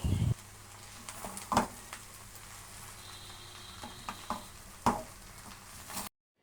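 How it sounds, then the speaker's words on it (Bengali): Rice, lentils and spices are stirred together with beef tripe in a cooking pot, giving a few sharp scraping knocks over a quiet, faintly sizzling background. "তারপরে সবগুলো চাল ডাল মশলার ভুঁড়ির সাথে ভালো করে কিছুক্ষণ নেড়েচেড়ে নিয়ে মিশিয়ে নিতে হবে।"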